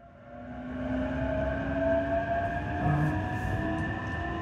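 A Tokaido Line train pulls away from Mishima station, a loud, even rumble of wheels and motor with a sustained whine riding over it, close and continuous, with no talk.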